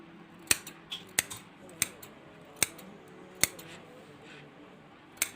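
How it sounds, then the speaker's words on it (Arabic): Large scissors snip through crochet work in a series of sharp, close clicks spaced about a second apart, with a quiet room hum underneath and no speech. "جيبوا مقص كبير"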